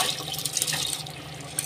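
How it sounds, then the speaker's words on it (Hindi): Water pours steadily into a pot of rice with roasted masala, making a close, continuous rushing splash with no voices. "मैंने ना वाटर ऐड कर दिया है"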